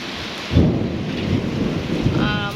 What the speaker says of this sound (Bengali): একটু আগে হালকা হালকা হচ্ছিল বৃষ্টি এখন জোরে হচ্ছে